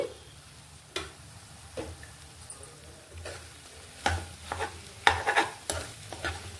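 Eggs frying in a pan for an egg potato curry, stirred with a spoon: soft continuous sizzle under irregular scraping and tapping strokes, close and moderately quiet.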